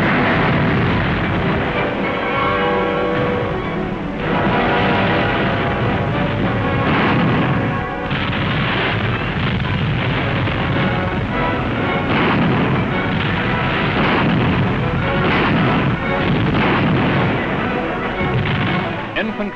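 Heavy anti-aircraft artillery barrage in a 1945 Canadian Army newsreel: loud, dense, continuous rumbling gunfire and booms with no pauses, on a worn wartime recording.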